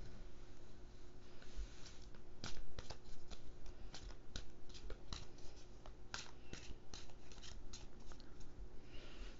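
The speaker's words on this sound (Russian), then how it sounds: "тасуем" A tarot card deck is shuffled by hand, giving a steady run of crisp papery riffles and sharp card snaps, close and clear, with no talking.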